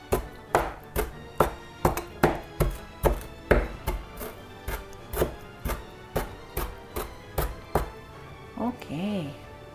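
A knife finely chops fresh dill on a board in quick, even strokes, about two sharp thuds per second, close and crisp, ending with a short voiced sound.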